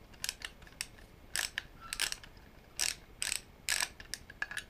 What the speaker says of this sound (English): This is just a ratcheting screwdriver I picked up at Walmart for around 20 bucks.